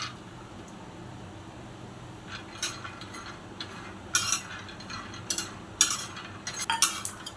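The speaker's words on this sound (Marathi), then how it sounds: "गरम तव्यावर अर्धी वाटी शेंगदाणे खरपूस भाजून घेऊ" Half a cup of peanuts dry-roasting on a hot griddle, stirred so they rattle and scrape in short clustered bursts over a faint steady background, close and moderately quiet.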